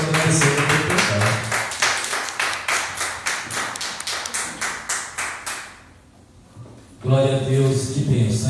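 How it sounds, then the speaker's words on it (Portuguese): A church congregation claps in praise to the Lord in a steady, rhythmic beat for several seconds. The clapping drops to near silence, then loud singing or music returns. "As palmas do Senhor agradecendo por cantar."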